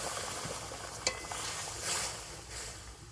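Thickened saffron-soaked milk goes into fried semolina in a pan, giving a soft steady hiss and sizzle with a single metallic clink partway through.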